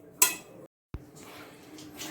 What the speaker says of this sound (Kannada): ಇದ್ರಾಗ ಹಾಕಿ ಇಡ್ಲಿ ಸ್ಟೀಮರ್ನಾಗ ಇಡ್ತೀನಿ